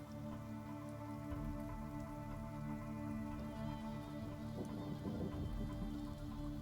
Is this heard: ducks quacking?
no